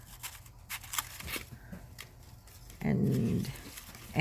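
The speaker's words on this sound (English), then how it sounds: "have to excuse my dog" A dog whimpers and gives a short, low growl indoors, faint at first and then a brief louder grumble near the end, with small handling noises around it.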